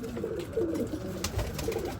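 Pigeons in a loft coo softly and repeatedly close by, their low rolling calls rising and falling over a faint background hum after feeding.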